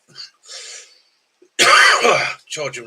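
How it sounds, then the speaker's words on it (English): A throat clears and then a harsh, loud cough follows, with a few quieter breathy sounds around them. "Do excuse me coughing."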